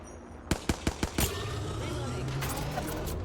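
Apex Legends gunfire cracks out as a quick burst of about five sharp shots, followed by a sustained rattle of game noise, loud and close.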